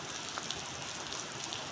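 Steady heavy rain pours down at a coal mine in southern Laos, a dense even hiss of drops drumming on surfaces with occasional louder splats, close and continuous with no voices.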